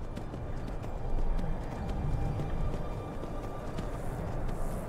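Horse hooves clip-clop steadily in the video game Skyrim, a run of evenly spaced sharp hoofbeats over a busy, moderately loud game ambience for about five seconds.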